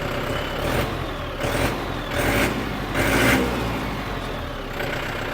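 A Yanmar YM358R tractor with a 16-valve engine revs loudly nearby, its steady diesel roar swelling in several repeated surges over a low rumble.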